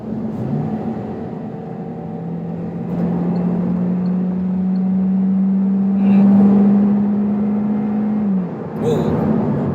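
A 2019 Hyundai Elantra with a 2.0-litre naturally aspirated engine revs steadily up toward the 6,500 rpm redline, its rising drone swelling as it builds, then cutting off abruptly at the shift.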